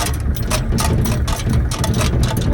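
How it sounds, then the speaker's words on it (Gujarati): A loaded tractor's engine drones steadily and loudly up close, a continuous low rumble with no break for the whole stretch. "ટ્રેક્ટર જઈ રહ્યું છે ભરીને."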